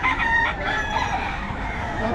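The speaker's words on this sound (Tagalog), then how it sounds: "Oh, ang ganda ng mga manok." Chickens at a poultry market in Bocaue, Philippines, heard as an ongoing blend of crowing and clucking from several birds amid crowd noise, fairly loud and continuous.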